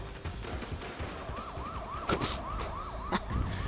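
An emergency siren from the video game Sleeping Dogs wails in rapid rising-and-falling cycles over low city traffic noise, with a few brief thumps and clanks breaking in near the end.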